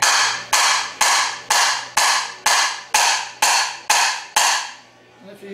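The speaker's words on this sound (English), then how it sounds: "take a hammer and hit it squarely" A hammer strikes a transmission shaft into a TH350 forward drum, nine loud, evenly spaced metallic blows about half a second apart, each ringing out and decaying before the next.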